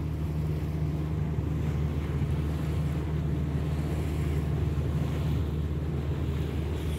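Boat with a new engine cruising gently at sea off Ayvalık, a steady low engine drone under continuous wind and water rush, loud and unbroken.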